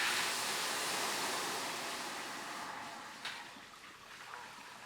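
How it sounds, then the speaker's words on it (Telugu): Water in a pan on a stove heating toward a boil while making bread halwa syrup, a steady soft broadband hiss with a few faint bubbling pops near the end, no talk. "వాటర్ కూడా స్లైట్గా మరుగుతున్నాయి"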